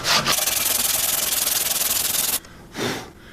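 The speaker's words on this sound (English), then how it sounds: "it much easier to not wobble back and forth as I'm sanding." Hand sanding a wooden chess rook: a steady, rapid back-and-forth scratching rasp that runs unbroken for over two seconds, stops, then comes back as one shorter stroke, close and loud with nothing else heard.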